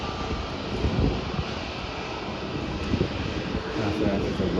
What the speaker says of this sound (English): That's an Airbus A320 flying from Melbourne, Sydney.